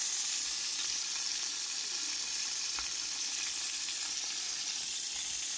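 Turkey pan-searing in a hot pan, turned with tongs, makes a loud, dense, continuous sizzle close up, with a few faint clicks of the tongs and no talking.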